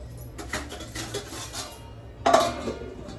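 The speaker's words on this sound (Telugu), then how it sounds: "ఇదిగో ఇలా అయితే పొంగొచ్చిందండి" A pot of rice covered with a plate boils over on a stove, giving a steady hissing sputter that bursts louder near the end, with no talking.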